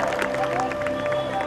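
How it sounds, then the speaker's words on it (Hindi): Applause and crowd noise from the audience at a Brahma Kumaris International Yoga Day event in Solapur, a scattered clapping wash under a faint voice and a steady tone, moderately distant. "सब तालियां बजाएं"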